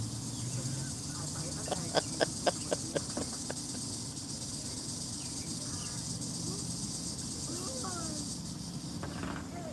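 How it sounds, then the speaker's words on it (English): Cicadas buzz outdoors in a dense, unbroken high drone throughout, joined partway by a quick run of sharp clicks or taps. "Damn cicadas."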